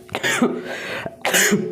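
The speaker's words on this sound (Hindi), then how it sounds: "खांसी ने बहुत परेशान कर लिया है" A man coughs twice during a classroom lecture, each cough a loud harsh burst with a gap of breathing and room noise between them.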